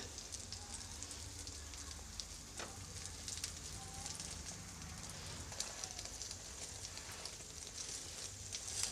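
A masala bun roasting in ghee on a pan over a medium gas flame gives a steady, soft sizzle and crackle throughout, fairly quiet and even, with faint scattered pops and no talk in between.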